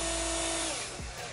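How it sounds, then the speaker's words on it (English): Power drill boring holes into an entryway wall for drywall anchors, a steady whining motor that winds down near the end, close and alone with no talk. "drill your holes"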